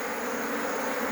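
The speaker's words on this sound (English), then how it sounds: "These are the honeybees." Honeybees buzzing in an opened beehive during an inspection in Nigeria: a dense, continuous drone of many wings, close and steady, with no breaks and no voices.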